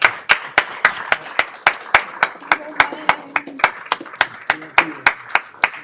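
Rhythmic clapping at a council business meeting, steady and fairly close, with a few hands beating together in a regular pattern while voices murmur faintly underneath.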